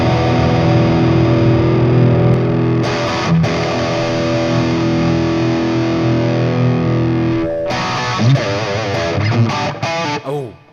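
Heavily distorted electric guitar through a Fractal amp modeler plays loud, sustained chords with a few quick changes, thick and saturated, with no voices.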